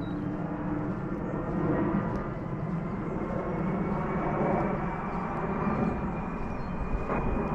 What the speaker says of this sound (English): God, these planes are just constant today,